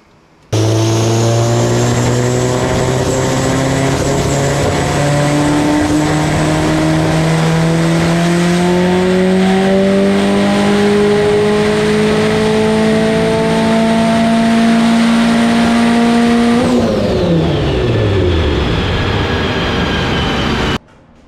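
A homemade 3-liter turbocharged engine built from sheet metal runs at a loud, sustained whine-laden roar that slowly rises in pitch over about fifteen seconds, then winds down sharply as it shuts off.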